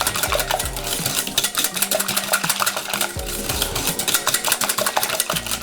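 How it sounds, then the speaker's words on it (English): Quick whisking of melted, cooled butter into a baked donut batter in a bowl: a rapid, steady clatter of wire whisk tines against the bowl, close and fairly loud, without voices. "Then you want to add in the melted and cooled butter and also just whisk it shortly"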